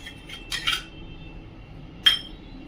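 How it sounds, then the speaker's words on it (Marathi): A utensil knocks and scrapes against a bowl in a few brief clinks while semolina and yogurt are beaten together for idli batter, with quiet pauses in between. "आपण प्रथम हे दही आणि रवा फेटून घेऊया."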